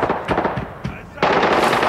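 Rapid bursts of automatic gunfire in a video game shooter, a tight cluster of sharp shots followed by a denser, louder volley, close and prominent.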